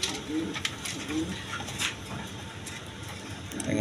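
A pair of pigeons, a male and a female, give soft, low coos in short repeated bursts close by, amid light rustling and background noise.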